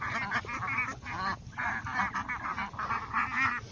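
White farm geese, about two months old and raised in a rural village, honk repeatedly in rapid overlapping calls, a loud, continuous chorus with no pause.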